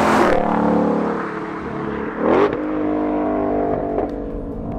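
A Ford Mustang Shelby GT500 V8 revs hard through its exhaust, loud and close, with a sharp blip early, another surge near the middle and a smaller one later, its rumble holding between bursts.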